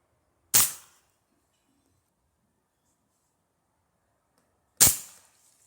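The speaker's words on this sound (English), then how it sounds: "I'm going to do a couple shots with just piranha with the Benjamin vaporizer here" Benjamin Vaporizer air rifle firing Piranha pellets at 10 yards, two sharp loud cracks about four seconds apart, each decaying quickly into near silence.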